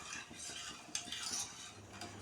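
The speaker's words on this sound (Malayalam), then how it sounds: "നമ്മൾ പഞ്ചസാര ഇടയ്ക്കൊന്നിങ്ങനെ ഇളക്കി കൊടുക്കണം" Sugar syrup for gulab jamun stirred in a pan, a soft continuous swirling and light scraping, fairly quiet and close.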